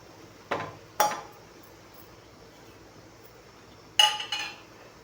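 A spoon stirs roasted fenugreek and black cumin seeds into oil in a metal pan for a homemade hair dye oil, giving about four sharp, quiet metallic clinks with a long gap between them and no voices.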